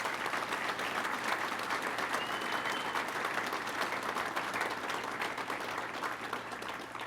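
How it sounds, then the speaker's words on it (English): Dense, steady applause from a large audience at the New York City PBA police union annual convention, loud and unbroken for the full seven seconds with no speech over it. "Let's give him a round of applause."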